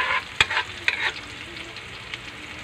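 Garlic sautéing in a pan until golden brown: a soft, even sizzle under a few clear scraping strokes of a spoon, quiet and close with no talk.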